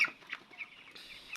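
Chickens on a poultry farm, the birds around twenty days old, giving soft, scattered clucks at moderate distance against a quiet background.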